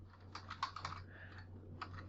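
Typing on a computer keyboard, a quick burst of close key clicks, a short pause, then a few more taps, quiet and with no talk.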